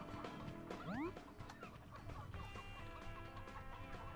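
A cartoonish chicken clucks once in the Earthworm Jim 3D video game, a short rising squawk over busy game music and effects, with no talk.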